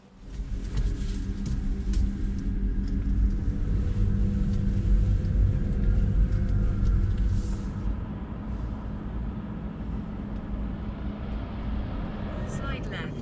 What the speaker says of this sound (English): My first time driving an EV on a motorway.